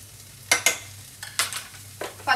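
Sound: ginger and garlic frying in a pan

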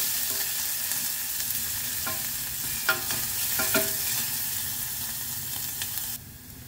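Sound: sautéing onions in a pan for chicken tinola

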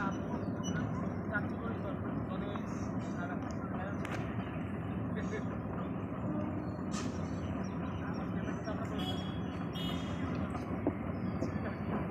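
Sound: train crossing a railway bridge

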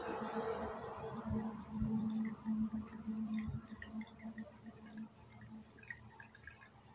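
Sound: water being poured into a container

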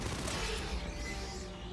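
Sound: automated sentry turret firing in Aliens: Fireteam Elite video game

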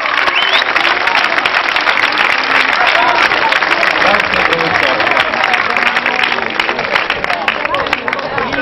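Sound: audience applause for the school principal

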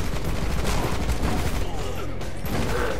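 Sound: shotgun firing in Rocketbirds: Hardboiled Chicken video game

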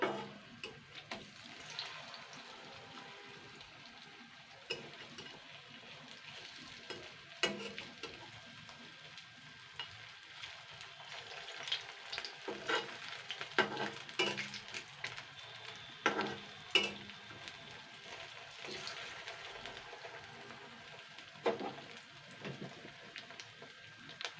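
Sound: egg chops frying and being turned in pan

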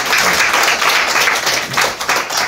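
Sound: applause

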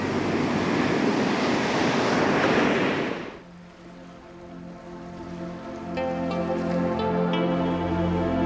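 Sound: ocean waves breaking on a beach by a fishing pier

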